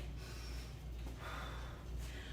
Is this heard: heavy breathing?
yes